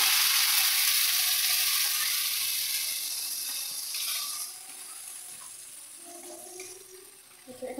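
Spices fry in a pan in a home kitchen, a loud hissing sizzle at first that gradually fades softer, with faint scraping of a stirring spoon near the end.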